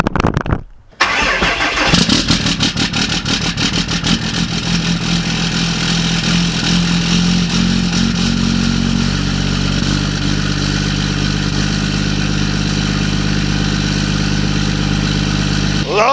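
A car engine cold-starts in 20-degree weather, with a brief crank and catch, then settles into a loud, steady, rough idle that runs on without a break.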